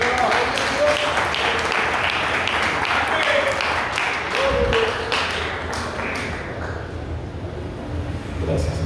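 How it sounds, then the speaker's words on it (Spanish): A church congregation welcoming a preacher with applause, loud rhythmic clapping close by that gradually thins and fades, while voices speak over it. "Lo recibimos con fuerte aplauso"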